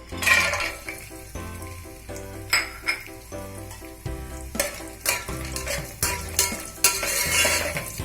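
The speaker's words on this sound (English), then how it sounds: "So let's first fry the dry fruits." Cashews, almonds and raisins fry in ghee with a close, bright sizzle, while a metal spoon scrapes and knocks against the pan in repeated strokes.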